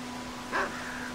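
A single short dog bark in the video game Red Dead Redemption, fairly soft over a steady background hum.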